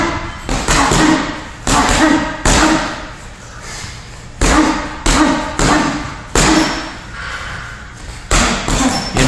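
Power punches slam into a heavy bag at close range, loud thuds in quick pairs and singles with brief pauses between, steady through the round.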